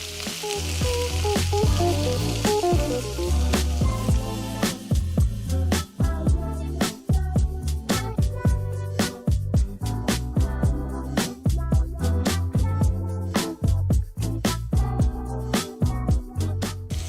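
Lamb loin chops sizzle steadily in a hot pan just after being flipped, a continuous frying hiss that runs the whole time beneath louder rhythmic background music.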